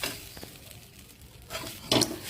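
A spoon stirs spicy semolina (suji) in a pan, giving soft scraping and a couple of louder clinks against the metal, fairly close and without voices.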